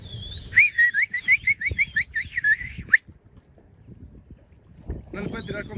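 Someone on a boat off Roatán, Honduras, whistles a rapid series of short, rising chirps to call dolphins, about a dozen in a row, then stops; quiet water and engine noise follow.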